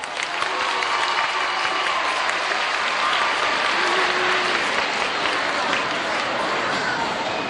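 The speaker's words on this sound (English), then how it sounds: "how about a little warm-up cheer for Nutka?" Marineland show crowd bursts into loud, continuous clapping and cheering, a thick wash of applause from a large audience that holds steady throughout.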